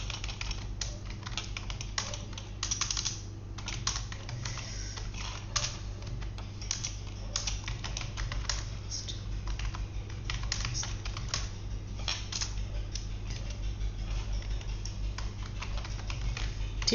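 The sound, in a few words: typing on a computer keyboard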